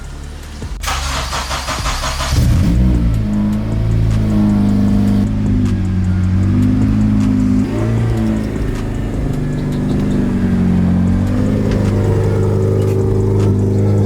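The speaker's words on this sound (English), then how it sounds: "So enjoy this lovely cold start of this exhaust leak." Acura TSX CL9 with an exhaust leak on a cold start: a short burst of starter cranking, then the engine catches and settles into a loud, rough, throaty idle with a raised cold-start hum that stays steady throughout.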